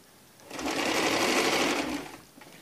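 Sewing machine running steadily while stitching a blouse neckline, a close, continuous mechanical whir lasting about a second and a half and then stopping.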